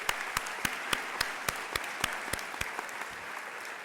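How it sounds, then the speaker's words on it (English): A high school commencement audience of 2017 graduates and 1967 alumni applauds, with dense crowd clapping that holds steady for the whole stretch, carrying regular sharp accents. "Let's give them a round of applause."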